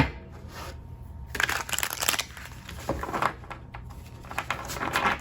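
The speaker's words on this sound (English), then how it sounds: "One more good shuffle" Tarot deck shuffled close up, a soft continuous papery rustle with brief crinkly surges, no voices.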